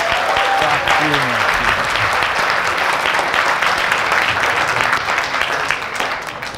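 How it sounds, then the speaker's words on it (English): A crowd applauds a sales team after they close ten property units, producing dense, sustained clapping that stays loud and steady for several seconds and fades slightly at the end, with some voices mixed in. "Give it a big round of applause!"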